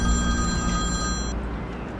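A telephone rings with a steady electronic warble, fairly loud and close, over a low room hum; the ring cuts off about two-thirds of the way through.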